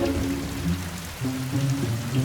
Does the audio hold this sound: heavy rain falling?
yes